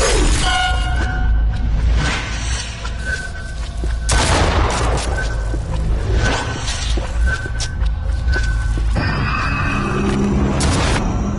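Shotgun blasts in a horror video game, several loud booming shots with crashing, shattering impacts and whooshes scattered across the stretch, close and forceful over a constant low rumble.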